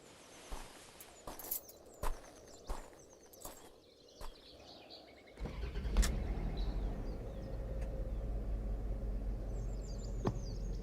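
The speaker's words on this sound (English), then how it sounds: "We're just gonna start the car, okay?" A car engine cranks and catches, settling into a steady low idle rumble after a few scattered clicks and knocks, close by with no talking.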